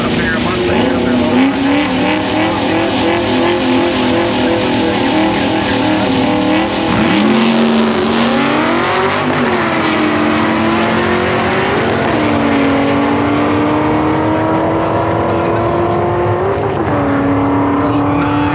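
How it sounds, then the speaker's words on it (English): A pair of Ford Mustangs, one a procharged 2-valve, drag race at a Streetcar Takeover event in Virginia, engines roaring loudly with rising revs and shifts, the sustained racket dominating as an announcer talks over it. "So we got a pair of Mustangs out there."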